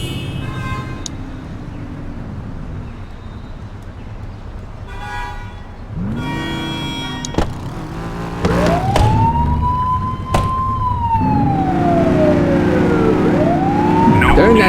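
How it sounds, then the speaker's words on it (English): A police car siren in the video game The Precinct wails and sweeps up and down, joined by short horn toots and engine noise, growing louder toward the end. "Turn that siren off."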